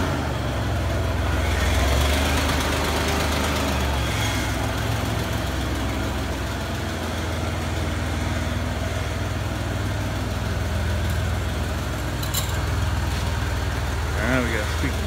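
An old 1995 Ford F-150 pickup's engine drones steadily while driving, a loud, continuous low rumble with cab noise and a brief higher whine near the end.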